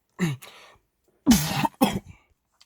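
A man coughs three times inside a car, one sharp cough followed after a pause by two more in quick succession, close and loud against near silence.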